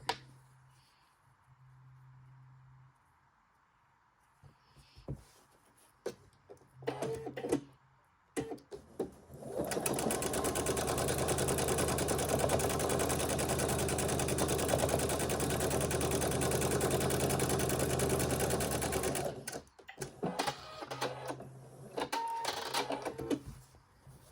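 Sewing machine stitching quilt block pieces in one sustained run of about ten seconds, close and steady, with handling clicks and fabric rustle before and after.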